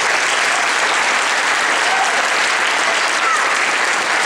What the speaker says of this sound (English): One more round of applause, please, for our panel.